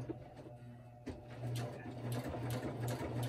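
Sewing machine stitching through a journal cover, a steady close mechanical whir with a rhythmic pulsing hum that starts partway in and keeps running to the end.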